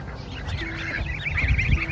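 Baby Ancona ducks quack and peep in a cluster of short, bright calls that rise in busyness toward the end, with a low rumble underneath throughout.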